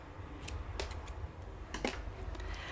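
Scissors snip crochet yarn after a worked round is pulled tight, making two or three quick, quiet clicks over a soft room hum.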